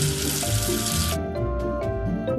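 Tap water runs strongly into a sink, rinsing soap off a surface, then the flow stops abruptly partway through, leaving a few faint drips and splashes.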